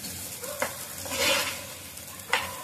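Spiced masala for a Marathi-style raw jackfruit curry with kokum sautéing in a pan, a steady soft sizzle broken by two sharp stirring scrapes, close and alone with no talking.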